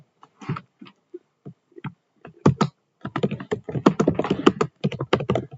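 Typing on a computer keyboard, sparse individual key taps at first, then quicker clustered bursts of clicking, close and clear with no talking.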